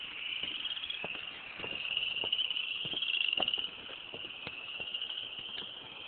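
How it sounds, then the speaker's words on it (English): Many frogs call together from a breeding spot in the water, a dense high chorus of trilling and chirping that swells and fades, fairly faint against scattered soft clicks. "We're about to pass over a huge frog nest."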